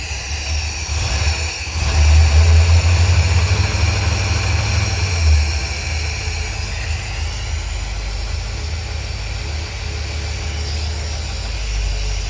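A C3 Corvette engine with a missing exhaust tip idles with a loud, steady, low rumble. It swells slightly early on, then runs on evenly.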